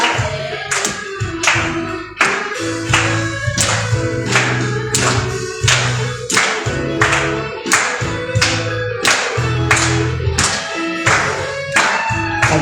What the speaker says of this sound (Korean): 힘차게 박수치며 주님을 사랑한다고 고백하는 시간 되길 원합니다.